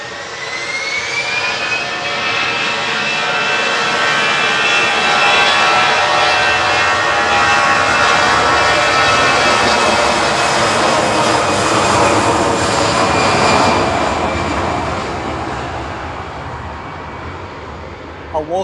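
A jet airliner bound for Zurich departs Manchester Airport, its loud, steady engine roar with whining tones filling the whole stretch before easing slightly at the end, with voices talking beneath.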